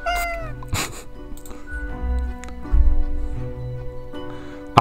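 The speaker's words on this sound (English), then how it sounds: "It's a cat." A cat meows in the video game Death and Taxes, a few clear cries near the start set over a steady game music bed that carries through the whole clip.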